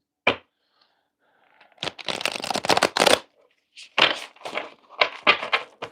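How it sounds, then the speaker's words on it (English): A deck of cards being shuffled by hand: a single snap, then a dense riffling burst, then several shorter ruffling bursts, close and crisp with no talk. "let's shuffle off against the cards one quick time here"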